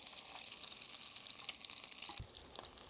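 Meatballs fry in a pan, browning on the outside before going into a creamy mushroom sauce. A steady, hissing sizzle runs throughout, broken by one brief low thump near the end.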